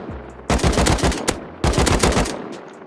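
Automatic gunfire in the video game Rust, two loud sustained bursts of rapid close shots, each lasting about a second, separated by a short pause.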